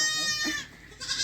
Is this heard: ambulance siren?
no